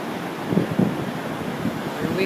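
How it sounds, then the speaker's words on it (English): Large surf breaking at Hanalei Cove, a rushing wash of water with wind buffeting the microphone, a few swells rising briefly over the steady roar. "Another swell of water, wall coming up."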